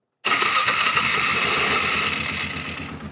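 A Polaris Sportsman 450 ATV with its original Mikuni carburetor fires up abruptly after a brief silence, then runs at a loud, steady, close-up idle with a rapid mechanical pulse.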